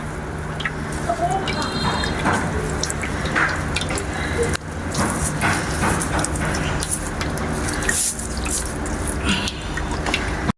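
Water draining steadily from fresh chhana cottage cheese tied in thin cloth, a continuous close trickle and drip with voices talking over it.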